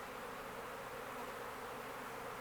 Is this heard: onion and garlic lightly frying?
no